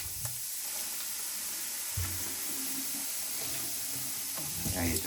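Liquid fizzing and bubbling as it dissolves down a kitchen sink drain in an apartment, a soft continuous hiss with faint gurgles and a few low knocks.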